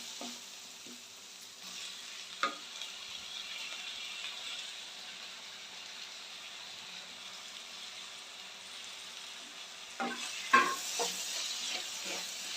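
Onion and tomato soften in a pan with asafoetida for a banana-stem kootu, a faint continuous sizzle with a few spoon taps early on and a louder burst of stirring and scraping near the end.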